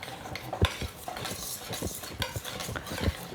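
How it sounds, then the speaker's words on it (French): Melted chocolate being stirred into eggs in a bowl for chocolate mousse, a run of soft scraping and clinking utensil strokes in an irregular rhythm, close and fairly quiet, no talking. "Alors là, le chocolat se mélange aux œufs."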